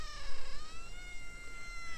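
Draco, a 7-year-old garden cat, gives a drawn-out, wavering meow with rising and falling pitch, close and fairly loud against a quiet outdoor garden background.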